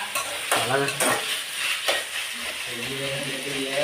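Onions sautéing in a home kitchen pan, a steady close sizzle with a few sharp stirring scrapes, while people talk quietly over it.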